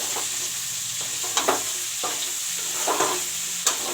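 Onions fry in a pan for a chicken curry with a loud, continuous sizzle. Occasional scraping stir strokes cut in at irregular intervals, and no one speaks.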